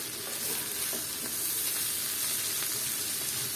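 Bitter gourd and potato slices with green chillies fry in a pan and get stirred, giving a steady close sizzle with a few scraping stirs across the whole stretch.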